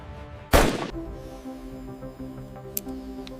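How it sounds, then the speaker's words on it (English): A single sharp, loud gunshot bursts out early during live-fire testing of bulletproof body armor at a ballistic armor factory, followed by a ringing decay over low background hum and one faint click near the end. "Armor performance is tested under live fire."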